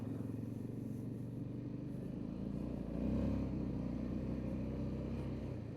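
A Honda Rincon ATV idling steadily nearby, a low smooth engine hum that stays even and fairly quiet throughout, rising slightly in level partway through.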